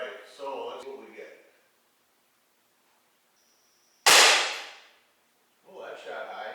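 A single sharp crack from an Umarex SA10 CO2 .177 air pistol, close and loud with a short ringing decay, set between stretches of someone talking.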